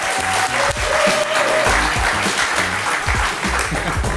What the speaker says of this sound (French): Des applaudissements pour Ébullition, s'il vous plaît.